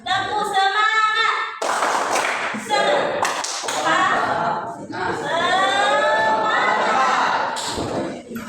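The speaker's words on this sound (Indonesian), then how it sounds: "Ulang. Tepuk semangat." A school class performs a rhythmic spirit clap, bursts of group clapping and chanted replies alternating with a teacher's voice, loud and close in a classroom.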